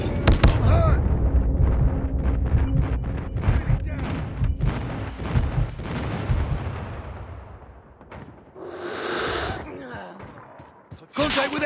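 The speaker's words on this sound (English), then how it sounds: "Friendly airstrike incoming." Call of Duty: Mobile Ground War match with airstrike explosions and gunfire, loud, rapid blasts and shots in the first half that fade into a quieter stretch, then a final burst, with game voice callouts in between.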